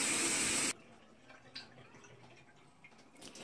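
A water softener shower head with shower water running as a loud, steady hiss that cuts off abruptly when turned off, leaving faint drips and quiet room sounds.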